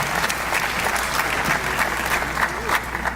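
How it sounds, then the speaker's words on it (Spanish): An indoor audience at an academic talk on magnetic nanocomposites for water treatment applauds steadily and evenly, a dense patter of many hands clapping throughout. "Recibimos con un aplauso al doctor"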